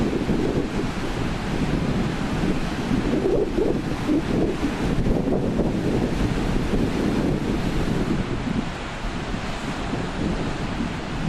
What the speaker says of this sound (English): It's blowing like a bastard, mate